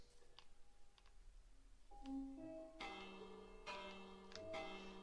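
A village bell ringing in Minecraft, a few bright metallic strikes that ring out and overlap with a sustained tone, fairly faint against a soft background with some light clicks.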